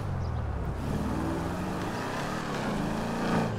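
A Ford Mustang's engine exhaust drones steadily in GTA 5, a close, throaty, sustained rumble that rises slightly near the end, with no talking.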